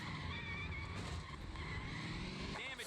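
A car brakes hard and skids in the Midtown Madness racing game, with tires squealing over a steady engine drone, fairly quiet in the mix.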